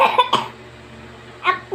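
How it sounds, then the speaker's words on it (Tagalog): A person coughs in a few short, sharp bursts, two close together at the start and another after a quiet pause, heard up close with no other sound. "inuubo ako"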